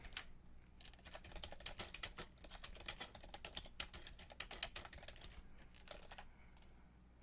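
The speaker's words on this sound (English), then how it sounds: "and we'll just type something in" Rapid typing on a computer keyboard while entering text during web development work, a dense run of crisp, close key clicks with short pauses, steady and fairly quiet, no voices.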